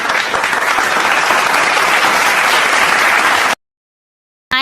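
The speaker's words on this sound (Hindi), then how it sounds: "इसके लिए जोरदार ताली बजाओ।" Loud, dense audience applause at a comedy show fills the clip steadily for several seconds, then cuts off abruptly into silence before a brief burst of sound at the end.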